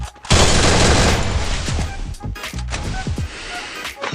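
Rapid bursts of gunfire from a shooter video game, a sustained loud fusillade at first, then sharper separated shots and short volleys that finish with a headshot.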